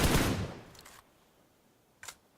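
Gunfire spray in a PUBG Mobile grand finals esports match: a loud burst of rapid shots opening the moment and fading out, a quieter brief flurry after, then one short sharp crack near the end, with no voices.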